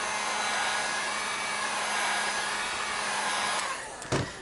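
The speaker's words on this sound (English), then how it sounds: "heat guns are a godsend when it comes to curving these things" Heat gun blowing steadily to warm and curve foam armor pieces for a Halo 5 cosplay build, a loud continuous hiss and whir that cuts off near the end with a brief click.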